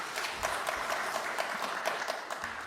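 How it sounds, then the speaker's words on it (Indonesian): Meeting attendees in a hearing room give a burst of steady applause, dense overlapping clapping filling the room from start to finish. "Tepuk tangan dulu buat kita semua."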